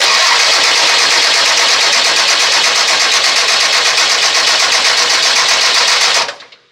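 Freshly installed car engine cranking over on its first start attempt, a loud, continuous buzzing whir for about six seconds before it cuts off abruptly.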